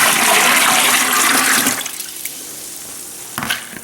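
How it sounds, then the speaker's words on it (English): Rinse water poured into a morel mushroom spore slurry mix: a loud, rushing, splashing pour that cuts off after about two seconds, followed by quieter dribbles and a brief final splash. "save all the water in here and pour it into the slurry mix"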